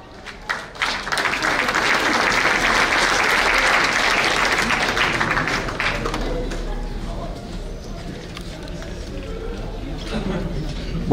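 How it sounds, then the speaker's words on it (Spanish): Audience applause at a regional governor's public address on a street in Abancay, Peru: dense, steady clapping from a sizable crowd that swells loud for several seconds, then thins out and fades toward the end. "Lo vamos a recibir con aplausos."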